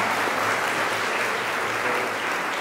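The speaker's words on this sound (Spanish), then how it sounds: "Un aplauso para el hermanito" Church congregation applauding during a Catholic Bible-giving gathering, a dense, even burst of clapping lasting a few seconds, fairly close.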